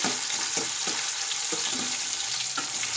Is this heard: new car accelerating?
no